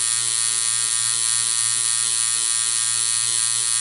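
A tattoo machine buzzes steadily as its needle works dotwork shading during a practice session, a close, continuous electric hum with no pauses.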